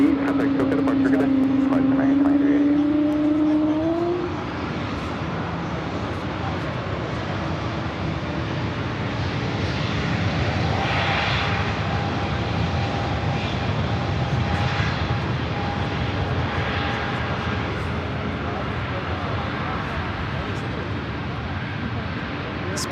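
A Delta jet airliner, flight 2107, takes off from runway 24L at Los Angeles LAX, its engines giving a broad, steady roar that stays loud for the whole stretch, with a brief tonal whine near the start and voices talking over it.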